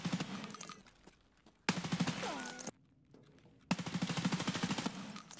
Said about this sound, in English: I shoot a short burst in a line at head height at the audio of his footsteps in server